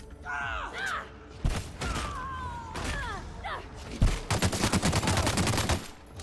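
Gunfire in the video game The Outer Worlds: a burst of rapid shots crackles near the end after scattered single blasts, loud and close, mixed with game sound effects and someone talking over it.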